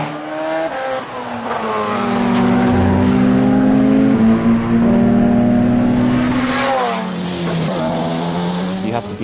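A Porsche 919 Hybrid Evo race car engine at full boost, a loud sustained high-pitched drone with rising and falling revs through gear changes, heard close and continuous throughout.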